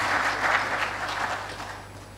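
An audience at a national defence and security summit in an auditorium claps for the special guest of honor, a short round of applause that starts full and gradually tapers off.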